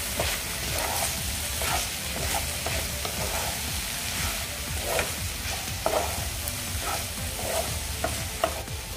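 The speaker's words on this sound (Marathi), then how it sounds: "आता आपण हे फक्त एकदा मिक्स करून घेऊया." Cabbage and chana dal stir-fry sizzling steadily in a pan while being stirred, with a continuous close hiss and repeated soft scraping strokes, no talking.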